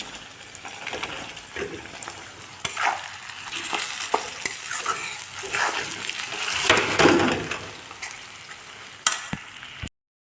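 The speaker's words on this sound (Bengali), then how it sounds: "ভালো করে মাথাটা ভেঙে দিচ্ছি। এখন একটু ভাজা হোক" Fish head being broken apart with a spatula and fried in a pan for a kochu shak dish, loud continuous sizzling with scraping and stirring knocks, close and alone.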